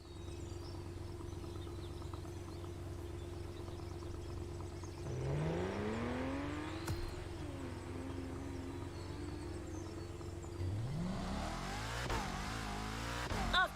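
A Porsche 911 engine on a racetrack in the video game The Crew Motorfest idles and hums, then revs up with rising and falling pitch sweeps as it accelerates and shifts, growing louder toward the end, no talking.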